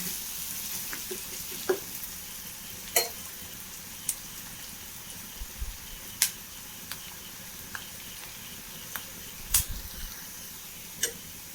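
Crushed chilli and onions fry in a pan for a Kerala-style bean stir-fry, giving a steady soft sizzle with scattered sharp crackles and pops, close and moderately quiet, with no voices.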